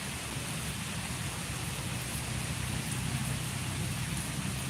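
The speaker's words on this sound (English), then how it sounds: "All this rain. Is it raining where you at?" Rain falling outside on a cold day, a steady, even hiss of drops on surfaces that continues unbroken with no voices.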